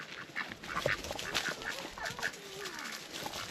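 Several ducks quack in short, irregular bursts close by, with scattered calls overlapping against faint outdoor background.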